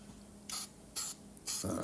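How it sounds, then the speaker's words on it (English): Three short bursts of aerosol lubricant sprayed onto a nut and bolt threads, each a sharp hiss lasting a fraction of a second, close by, the last one running longer. "Spray this too."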